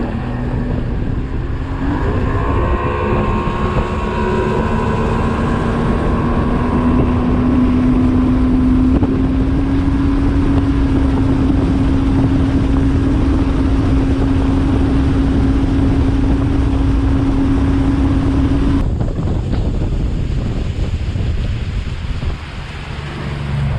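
A fishing boat's outboard motor runs steadily with a droning tone under heavy wind buffeting and water noise, loud and close throughout, with the pitch rising and then cutting off sharply near the end.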